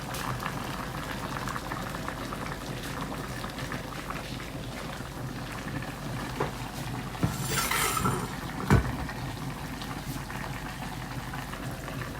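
A pot of fish boiling on a rural Chinese kitchen stove, a steady bubbling simmer with occasional clinks and a brief hiss near the end.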